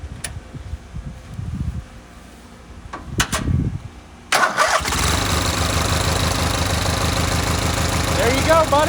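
A Briggs & Stratton 18hp opposed-twin race mower engine cranks in short bursts, then catches and settles into a loud, steady, close running rumble with a rapid firing beat.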